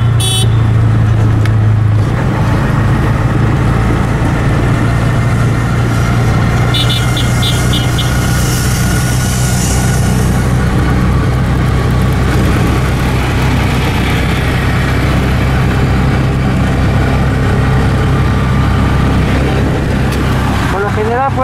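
Street traffic on a Villa el Salvador avenue with private cars, mototaxis and taxis: continuous loud engine drone and idling with occasional horn toots, someone talking over it.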